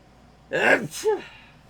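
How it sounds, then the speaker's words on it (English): A single sneeze, a sharp breathy burst with a quick voiced tail, close by and otherwise quiet. "One more sneeze."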